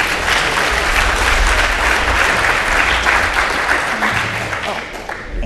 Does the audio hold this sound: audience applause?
yes